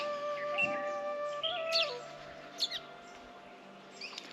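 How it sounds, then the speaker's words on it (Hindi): Birds chirp and tweet in a village setting, with short calls scattered across the clip over a steady background hum, moderately distant and fairly quiet. "ध्यान से सुनिए चिड़ियों की चहचहाट के साथ आवाज़"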